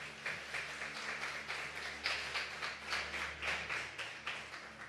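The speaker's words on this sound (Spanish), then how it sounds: "¿Alguien le puede dar un aplauso al Señor por eso?" A church congregation applauds during a Christian sermon, a steady wash of many hands clapping at moderate distance that swells and pulses throughout without a break.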